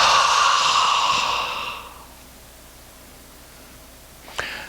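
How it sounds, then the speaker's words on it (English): A deep open-mouth exhale, loud and close, breathy and broad for nearly two seconds before fading into quiet room tone, with a small click near the end. "A deep breath in through the nose, And an open mouth exhale."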